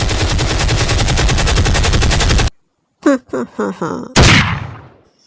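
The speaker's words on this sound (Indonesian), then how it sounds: "Chenwu pun langsung pergi dan disusul dengan anak buahnya yang sudah bersiap-siap untuk menembak mati Aryan" Loud, close gunfire from the action film The Night Comes for Us: a dense, continuous machine-gun burst, then a sudden gap, several short separate shots and a final heavy blast that rings out.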